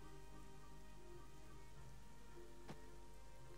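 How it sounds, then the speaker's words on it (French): Continuous soft hiss of rain falling in the video game Black Desert Online, steady and even, with a low ambient hum beneath and a brief brighter patter partway through. "Effectivement, on voit ici, il pleut."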